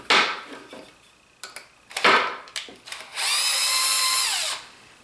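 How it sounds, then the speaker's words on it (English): A bolt is ground to a point on a sanding belt: short bursts of close, rough grinding and whirring start and stop, then a longer steady whine of a little over a second that winds down. "grind it to a point on my sanding belt"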